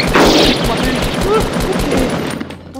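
Rapid gunfire in the video game Fortnite, loud sustained bursts of shots, mixed with excited game audio and player chatter throughout.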